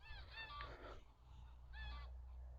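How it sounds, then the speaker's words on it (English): Geese honk outdoors in two short bursts of nasal calls, moderately distant over a low steady rumble, with no talking. "Sorry, there's some geese."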